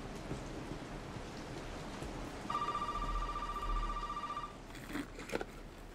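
In the horror game Resident Evil 7, a telephone rings with a sustained electronic trill lasting about two seconds over a constant rain-like hiss, followed by a few faint clicks.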